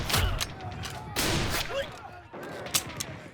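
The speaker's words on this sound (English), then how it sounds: "Sergeant York and his men come under fire from another German trench." Gunfire from a German trench in a World War I fight, several loud broadband bursts of shots and thuds striking in clusters, with quieter gaps and a lingering rumble between them.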